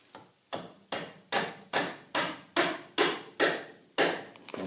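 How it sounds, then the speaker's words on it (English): Nine evenly spaced hammer blows drive a nail through wall plates into a floating wall, each strike crisp and close, repeating at a steady rhythm of about two per second with no talk. "And again, just hammer that nail in there."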